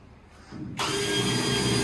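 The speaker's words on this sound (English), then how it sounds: "We're doing a little pilot hole, then we'll drill it." A power drill bores pilot holes into a car body panel for plug welds during a Ford Falcon 500 XY ute restoration, starting with a faint whir and then a loud steady high-pitched grinding whine.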